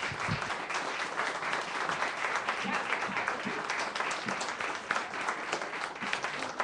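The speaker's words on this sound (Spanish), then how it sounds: "Vamos a darle un aplauso al Señor" A church congregation applauds together, a steady, dense wash of clapping sustained throughout, with faint voices mixed in.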